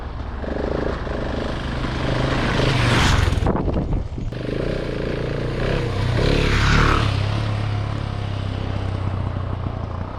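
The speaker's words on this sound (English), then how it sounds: "The 701 sounds like a bucket of bolts rattling around in a metal container." A Husqvarna 701 Enduro single-cylinder motorcycle engine running close by with a rough, rattly mechanical tone, briefly revving louder before settling back to a steady rumble.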